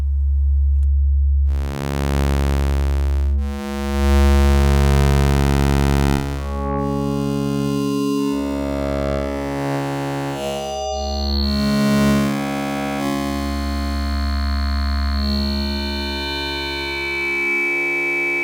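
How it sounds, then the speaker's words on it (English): Sustained preset wavetable tones from an Erica Synths Graphic VCO synthesizer oscillator, bright and buzzy, shifting in timbre every few seconds as one waveform gives way to another, loud and continuous with no voices. "let's just have a listen to some of the sounds of the preset wavetables"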